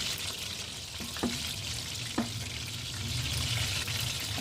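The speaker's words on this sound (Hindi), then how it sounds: "ये जब तल लेते हैं ना तो उसके बाद टूटने का डर नहीं होता" Chicken koftas fry in hot oil with a steady, fairly faint sizzle, and a couple of soft clicks of a utensil touch the pan partway through.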